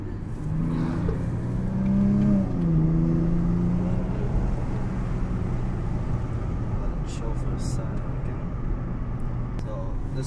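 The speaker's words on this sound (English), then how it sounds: "we're not going fast, but we're revving it out, second, third gear" A Nissan Z sports car engine hums and revs through second and third gear with rising tones that shift at each change, under steady road noise and a speaking voice.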